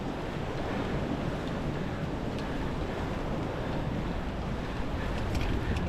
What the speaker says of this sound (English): The ocean is a little bit wild